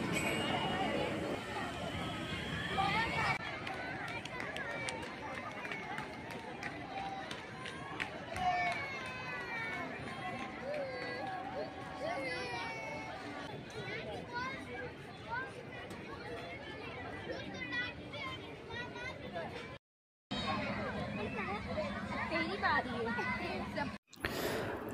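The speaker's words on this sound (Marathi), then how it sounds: "एवढी गर्दी की काय विचारू नका" A dense crowd of visitors at Wonder Park in Nerul, Navi Mumbai, a continuous babble of many voices with children's shouts, footsteps and running close by, briefly cut out twice near the end.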